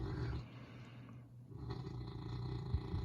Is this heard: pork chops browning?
no